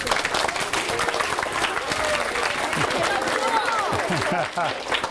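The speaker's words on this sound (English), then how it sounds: "I think we really need to give him one more round of applause" Round of applause from an audience of fourth to sixth graders after a Google Glass presentation, dense clapping mixed with children's shouts and chatter for about five seconds.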